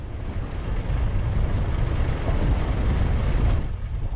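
A sailboat enters a harbor in 30 knots of wind, with loud, steady wind roar buffeting the microphone over a low rumble of waves and water around the hull, continuous throughout.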